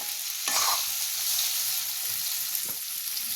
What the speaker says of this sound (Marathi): सगळी भेंडी तेलात सोडून झाली आहे। आता मी एकदा हलवते ती।